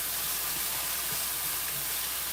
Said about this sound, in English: And just continue sauteing.